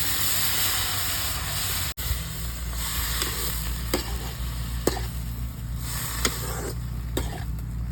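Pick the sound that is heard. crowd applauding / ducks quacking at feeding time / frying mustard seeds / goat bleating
frying mustard seeds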